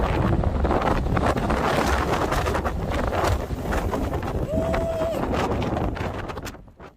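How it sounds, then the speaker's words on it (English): Strong wind buffets and roars continuously across the microphone on a Las Vegas terrace at night, loud and gusty, fading near the end. "It was very windy this day."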